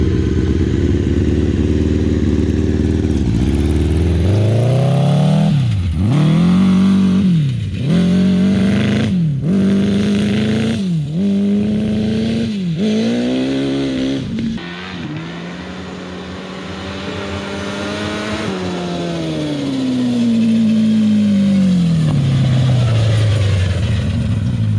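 A 1000cc buggy engine revs hard on a turbo track, loud and close, with a string of sharp throttle blips rising and falling, then a sustained drone that fades toward the end.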